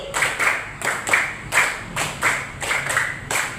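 A classroom group claps in unison, eight sharp evenly spaced bursts of hand claps in a steady rhythm, each a short cluster of slightly ragged claps, close and loud with no talk.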